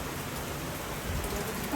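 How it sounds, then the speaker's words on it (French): Rain falls steadily during Storm Fiona, a soft, even hiss of drops with no wind gusts or voices, faint and continuous over the short stretch. "C'est juste qu'il pleut."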